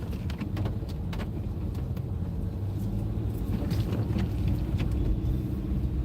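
Steady low road rumble from a car driving through town streets, continuous and fairly loud throughout with no talk, faint higher hiss of tyres and wind above the drone.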